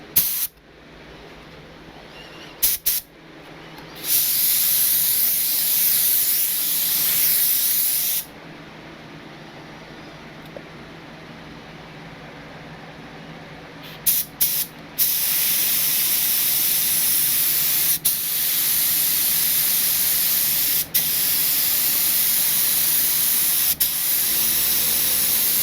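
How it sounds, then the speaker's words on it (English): A spray gun lays down a heavy, slow final coat of Rust-Oleum paint, loud continuous hissing bursts that cut off briefly and resume several times, with no talking. "lay down this last coat. I am gonna go real heavy, real aggressive"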